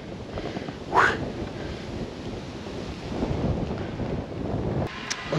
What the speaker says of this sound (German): Und ein ordentlicher Wind pfeift hier lang.